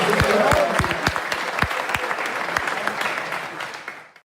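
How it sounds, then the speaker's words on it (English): An audience applauds a volunteer at a hypnosis show, loud continuous clapping with a few sharp individual claps standing out, fading away near the end. "let's give him a round of applause"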